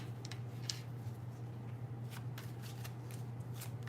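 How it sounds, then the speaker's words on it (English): A tarot card deck is shuffled close up, giving soft riffling bursts and flutters of cards scattered across a few seconds over a steady low electrical hum, faint and without talking. "I shuffled the cards"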